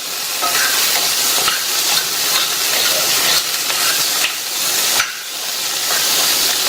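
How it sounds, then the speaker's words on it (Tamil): Boiled chickpeas with salt simmer and sizzle in a pan for a festival recipe, giving a steady, close bubbling hiss with faint stirring scrapes, alone and without talk. "இது அப்படியே ஒரு 2 நிமிஷத்துக்கு சிம்லேயே இருக்கட்டும்"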